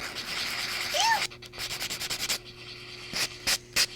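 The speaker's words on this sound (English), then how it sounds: "it's just the filing and buffing" Press-on nails are filed and buffed in quick, close rasping strokes: a longer scrubbing pass, then a run of short, evenly spaced rubs and a few separate swipes.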